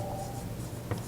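A pencil scratches a short mark on a wall over a stud, one quick close scribble with a soft tap at the end.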